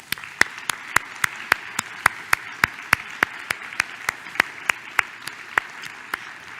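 Steady, evenly spaced claps ring out at a conference presidential address honoring early career investigators, sounding like a small number of hands clapping in a regular rhythm over a quiet room.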